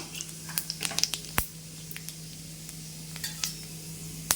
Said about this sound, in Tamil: அதில் கொஞ்சம் நம்ம பெருஞ்சீரகம் ஆட் பண்ணிக்கலாம்.